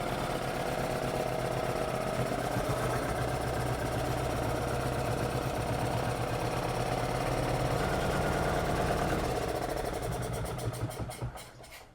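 A classic Kawasaki generator engine runs at low RPM with a steady, loud, rough mechanical drone and rhythmic knocking pulses, then falters and dies out near the end.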